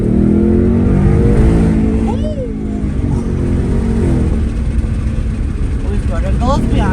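A Ford Mustang GT 5.0 V8 in Sandton, South Africa, rumbles loudly and close as it accelerates, with a deep, steady engine growl and rising pitch sweeps, while someone talks over it.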